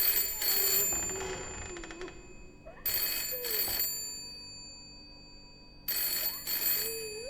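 A telephone in a hallway in the video game Layers of Fear rings in three loud bursts separated by pauses, the bell-like trills sharp and close, with no talking over them.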